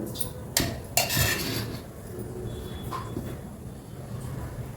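Metal pans clatter and clank close by as a pit paniyaram pan is set down on a stove, two sharp impacts followed by a faint scrape, with no voices.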